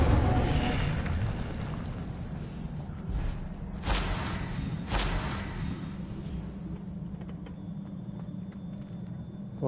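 A fire spell cast in Hogwarts Legacy gameplay, a run of booming bursts and whooshes with two sharp blasts near the middle, set against a continuous low rumble of game ambience.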